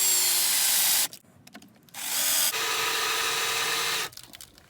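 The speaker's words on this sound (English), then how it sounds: "drill it all the way through from here" A power drill bores through an aluminum cavitation plate on a boat outboard, two loud bursts of whining drilling separated by a short quiet pause, close up with no talking.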